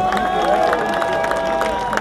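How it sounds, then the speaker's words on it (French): Audience applauding and cheering at a live Fara-Fara concert, a dense steady wash of clapping and crowd noise with music tones underneath, continuous throughout. "Et on applaudit encore très fort pour le public."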